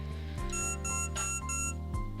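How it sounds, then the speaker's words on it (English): A missile-lock warning in a mecha strategy video game beeps in a steady run of short electronic tones over game music. "And then beep, beep, beep, beep."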